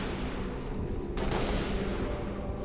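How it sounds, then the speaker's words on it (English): Enemy warriors fire weapons in the video game Halo: Reach, a dense burst of rapid gunfire that continues steadily at moderate loudness. "They're warriors, shooting at me."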